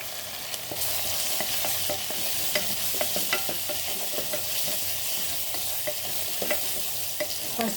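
Turmeric sizzles steadily in hot tempering oil while a spoon scrapes and stirs the pan in irregular clicks, close and continuous with no speech.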